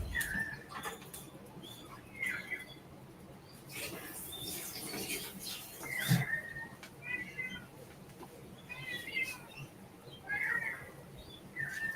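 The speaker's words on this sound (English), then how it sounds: "It's my cat's dinner time, so he's angry." An angry house cat meows at dinner time, with short, strained cries repeating every second or two at moderate distance over a quiet indoor background.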